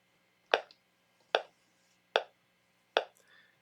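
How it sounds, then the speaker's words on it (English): A metronome set at 74 beats a minute ticks four times with sharp, evenly spaced clicks, close and clear against near silence. "I have my metronome set at 74 beats a minute."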